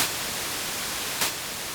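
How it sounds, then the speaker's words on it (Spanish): White noise from a Roland JD-Xi digital synthesizer, a steady full-band hiss lasting under two seconds with a faint brief swell near the end, heard alone. "El ruido, que es simplemente ruido blanco,"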